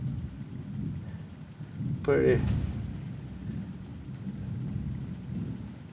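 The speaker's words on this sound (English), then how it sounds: "I hear some thunder out there too." Low rolling thunder rumbles outside amid rain, a long sustained growl that swells near the middle while a voice briefly speaks over it.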